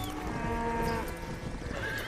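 A horse whinnies in the Western game Red Dead Redemption, a thin rising neigh over steady in-game ambience and faint clip-clop, close and moderately loud for about two seconds.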